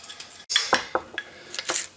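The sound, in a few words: mixing a dry spice rub in a dish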